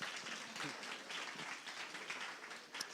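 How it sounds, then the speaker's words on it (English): An audience at a cultured meat symposium gives a standing ovation, a faint but continuous wash of applause from a crowd, steady throughout. "give them a round of applause, a standing ovation"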